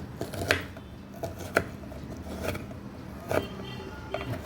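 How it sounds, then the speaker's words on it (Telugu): A knife chops green chilies into small pieces for onion samosa filling, giving about five separate, unhurried thunks on a board, close and fairly crisp. "పచ్చిమిరపకాయలు రెండు మిరపకాయలు తీసుకొని చిన్న చిన్న ముక్కల కింద కోసుకోవాలి"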